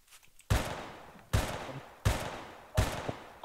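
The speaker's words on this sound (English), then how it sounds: "Oh shit, I'm being sniped." Four heavy sniper shots boom through a video game, each with a sharp crack and a long decaying tail, spaced under a second apart and loud with no talk.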